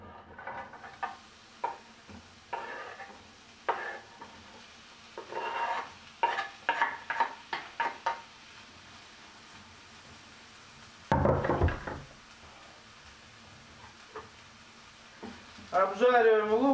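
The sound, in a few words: onions frying in a pan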